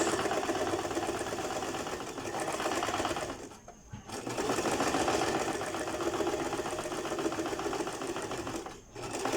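A sewing machine runs in a steady, continuous whir while stitching a seam at one centimetre, pausing briefly twice before resuming, close and alone without talk.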